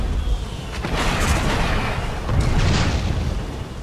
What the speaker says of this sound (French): Pratique que ça tire deux roquettes en même temps.